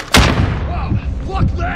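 Gunfire in the Call of Duty: Modern Warfare video game: a loud, close shot bursts out at the start, followed by rumbling battlefield noise with faint voices and radio-like chatter in the background.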